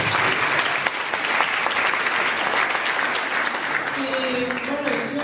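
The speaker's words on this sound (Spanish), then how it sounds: "Un aplauso para ella." An audience at an audiovisual festival claps loudly and steadily for Luz, who helped with the animation. The dense applause fills the stretch, and a voice begins speaking near the end as it carries on.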